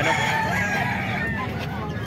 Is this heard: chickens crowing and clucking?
yes